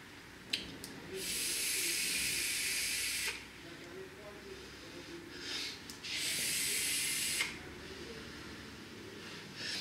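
Vapour hiss from an Ehpro Nixon V2 RDA dripper, two long steady hissing draws a few seconds each, close and fairly loud, separated by quieter gaps with faint clicks.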